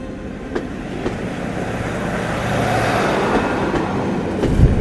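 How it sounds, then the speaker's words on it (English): A train slowing as it pulls into Corrour Station, a remote Highland stop with no roads, heard from inside the carriage as a steady rolling rumble with faint wheel clicks, the sound swelling slightly toward the end. "I do feel the train slowing down a little bit"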